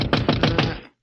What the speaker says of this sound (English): And then a knock on the door wakened me.